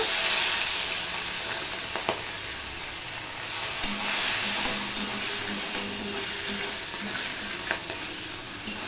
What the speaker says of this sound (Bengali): এবার একে একে মাছগুলো আমি ভেজে নেব